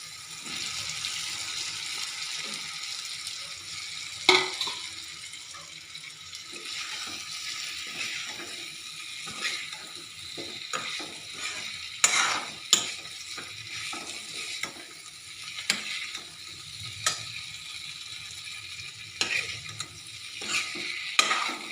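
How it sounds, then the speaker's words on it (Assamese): Fried potatoes and paneer tipped into a pan and stirred, producing a faint, quiet sizzle with scattered soft scrapes and clicks of a spoon over a long stretch. "এতিয়া ইয়াতে এইখিনি ফ্ৰাই কৰি লোৱা আলু আৰু পনীৰখিনি দি দিম।"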